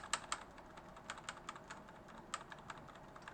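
Quick irregular clicks of a computer mouse or keyboard stepping through swimming race footage frame by frame, crisp, close and fairly faint, scattered unevenly with no talking.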